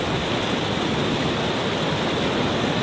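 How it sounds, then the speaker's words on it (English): A waterfall on the Oregon coast pours in a steady, loud broadband rush, close and unbroken throughout, with no voices over it. "It's a neat waterfall."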